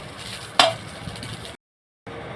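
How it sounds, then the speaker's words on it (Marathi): Peanuts and dal dry roasted without oil in a kadhai, giving a soft rattling, scraping stir with one sharp clatter near the start, then a brief dropout before the roasting noise returns, close and fairly quiet. "आता त्याच कढईमध्ये शेंगदाणे भाजून घेऊया आणि डाळवा थोडासा लालसर भाजून घेऊया"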